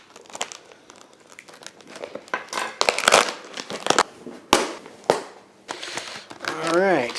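Paper crinkles and tears close by as a package of magazines is opened, in irregular bursts of rustling and crumpling, with a person talking now and then.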